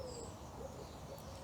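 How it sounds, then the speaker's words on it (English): Wood pigeons in a garden near a house give soft, faint cooing calls, low and muffled, set against a steady background hush with no talking. "we don't normally see wood pigeons so near the house"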